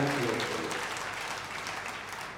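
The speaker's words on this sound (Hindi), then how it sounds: "एक बार जोरदार तालियां बजा लीजिए" Loud applause from an Aam Aadmi Party audience in Rohtak during a political address, a dense wash of clapping that is strongest at the start and eases slightly as it goes on.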